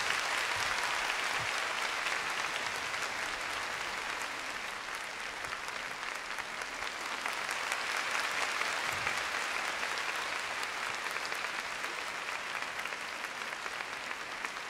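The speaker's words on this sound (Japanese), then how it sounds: "大きな拍手をお願いします。" Sustained, dense audience applause fills a figure skating arena after a Johnny Weir performance to Amazing Grace, a steady roar of many hands clapping from a distance throughout with no talk.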